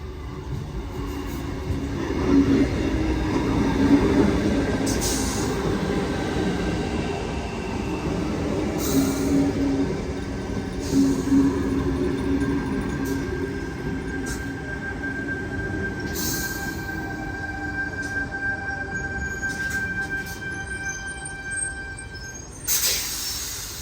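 A Sydney Tangara electric train, set T73, rolls into a station platform on a Hornsby service, a steady rumble of wheels and traction hum with high wheel squeal and brake hiss building over about 24 seconds, close and fairly loud.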